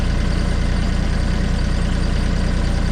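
A tractor engine idles at the end of a farm lane, a steady, loud, low rumble with even pulsing throughout and no voices.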